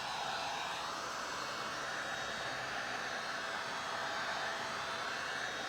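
A hair dryer runs steadily and close by, drying a painted Highland cow Easter craft sign, a constant whooshing airflow with no talk.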